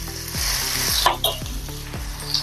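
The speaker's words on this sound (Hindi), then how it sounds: "अच्छे से मिक्स कर लेंगे और थोड़ा सा इसको नरम करेंगे प्याज और हरी मिर्च को।" Sliced onion and green chilli fry loudly in a pan, a bright, constant sizzle under several rhythmic scraping strokes of a spatula, close up and without speech.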